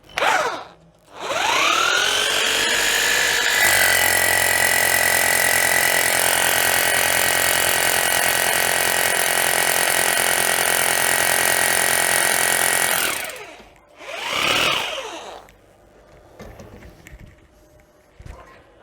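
A rotary hammer drill powered through a 2000W inverter from a car battery hammers loudly and steadily for about twelve seconds, with short spin-up and spin-down bursts before and after, no talking.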